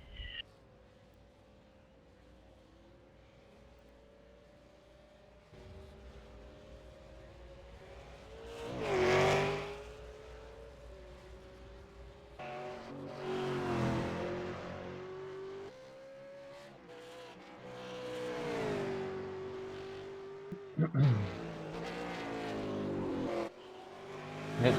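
Race cars circulating on a track, several engine notes swelling and fading as cars pass at varying distance, one loud close pass, with a commentator talking quietly over the noise.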